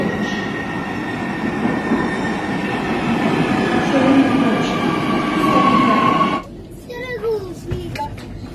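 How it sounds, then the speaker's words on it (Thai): A passenger train in Johannesburg, South Africa, rumbles steadily along its rails with a faint wheel squeal, heard from inside the carriage while someone talks over the noise. "ตอนนี้ขึ้นมาอยู่บนรถไฟแล้วนะครับ"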